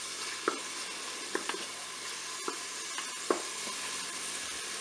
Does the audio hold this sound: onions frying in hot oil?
yes